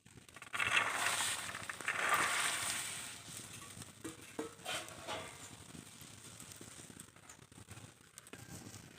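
Green peas are tipped into a pot and stirred, giving a brief burst of rattling, crackling splashes that fades into softer scattered stirring sounds.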